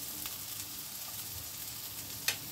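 Ginger and green chili sizzling in hot oil in a pan for masala paneer makhani, a constant close crackle with a brief sharp clink near the end.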